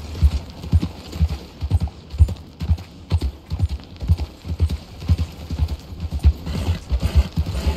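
Steady horse hooves clip-clop in an even walking rhythm on hard ground in the video game Red Dead Redemption 2, close and continuous, with no talking over them.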